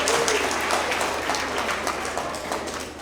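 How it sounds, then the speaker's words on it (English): Students and families at an end-of-year elementary award assembly applaud school staff, a moderate, even patter of many hands clapping that continues steadily throughout, heard from within the room. "let's give them a big round of applause as well"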